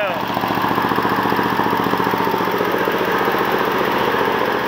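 Small lawn mower engine with a compact mower deck running close by, a steady, even idle throb with rapid regular firing that holds constant without talk.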